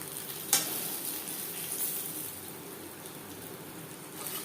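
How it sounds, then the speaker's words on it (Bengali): Bori lentil dumplings fry in hot oil with a soft, steady sizzle and faint crackle throughout. One sharp click sounds near the start, and otherwise the frying stays fairly quiet and even. "বড়ি ভেজে নেব"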